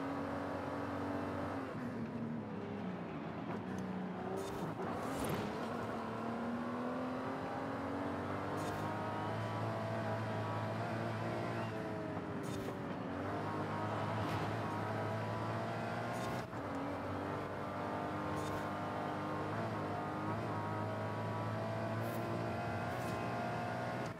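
A 2019 Aston Martin DBS Superleggera in Forza Horizon 5 drones and revs continuously at close range, its engine note rising and falling through gear changes and speed shifts, with occasional brief clicks and no talk.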